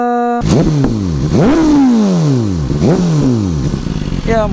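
A BMW S1000RR motorcycle engine revs hard several times, each blip rising sharply in pitch and then falling back, loud and close, with a final short rev at the end.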